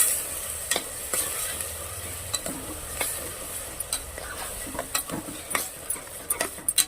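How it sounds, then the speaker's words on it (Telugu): Tomato paste frying in a pan for mutton paya curry, a constant sizzle under repeated quick spoon scrapes and clicks against the metal. "ఇప్పుడు టమాటాలో కూడా పచ్చివాసన పోయేదాకా ఫ్రై చేసుకోవాలండి"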